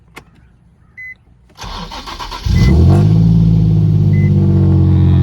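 A Honda Civic cold-starts: faint clicks, a brief starter crank, then the engine catches and settles into a loud, steady, rough idle close by.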